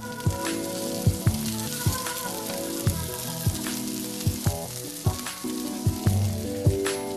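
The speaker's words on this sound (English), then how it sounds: "fry them in hot groundnut oil for 2 to 3 minutes on each side" Shami kebab patties sizzling in hot groundnut oil, a steady close crackle of frying broken by repeated sharp clinks and taps of a utensil against the pan.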